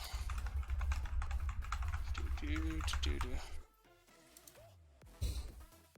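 Rapid clattering keystrokes on a computer keyboard during a tabletop role-playing session, a dense stream of clicks under background speech and game sounds, then a pause and a final burst of keys.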